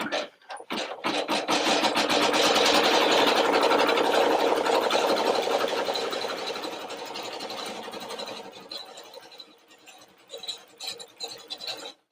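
An embroidery machine stitching appliqué pieces together for a unicorn design, a fast, steady mechanical whir and needle rattle up close that runs loud for several seconds, then thins out into intermittent stitching bursts.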